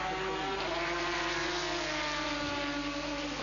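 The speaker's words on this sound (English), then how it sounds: "keeping the engine warm by opening the throttle a wee bit down the straight" A GT race car engine at Brno circuit drones steadily under light throttle down the straight, a continuous tonal hum with slowly shifting pitch, fairly distant and without talk.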